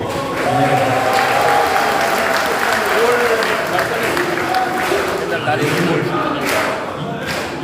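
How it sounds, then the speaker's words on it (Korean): Party members at a rally in Jeju clap loudly and steadily throughout, with crowd noise, whoops and a few thumps mixed in, while a voice carries over the top. "이름만 이야기하고 알아서 박수를 치시는군요"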